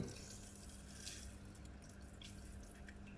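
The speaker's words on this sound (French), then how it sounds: "là vous voyez, ça filtre, hein, ça aspire l'eau" Aquael Versamax mini cascade aquarium filter drawing in and returning water, a steady close trickle and bubbling flow with faint drips, unbroken and quiet throughout.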